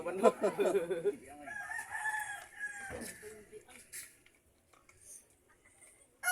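A rooster crows once nearby, a loud rising-and-falling call, followed by quieter sounds and distant faint noises.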